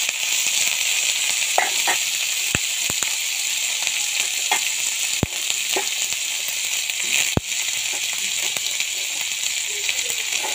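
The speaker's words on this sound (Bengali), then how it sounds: "কড়াইয়ের মধ্যে তেল দিছি, দিয়ে এখন পেঁয়াজ রসুন দিয়ে বাইদে নিব" Onion and garlic frying in hot oil in a wok, a continuous loud sizzle with occasional sharp pops and crackles, steady throughout with no talking.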